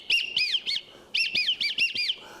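Wigeon whistling imitated on a Wing Setter duck whistle, a close series of bright, rising-and-falling chirped whistles in two quick bursts of three and five notes, loud and clear with no talk.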